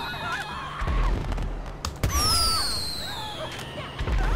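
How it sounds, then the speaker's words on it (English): Firework launcher rockets in GTA 5 Online, with whistling, rising streaks and sharp thuds and bursts overlapping one another, fairly loud and close, with faint screaming under the bursts. "No, not grenades. Firework launcher."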